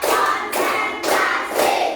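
A classroom of pupils claps hands together in a counted rhythm, four loud, even bursts of clapping about half a second apart, close and clear with no talking over them.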